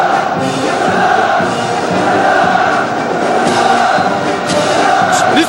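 A large crowd of protesters shouting in a public square, a dense, loud roar of many voices with scattered thuds, continuous and distant-sounding without clear individual speech.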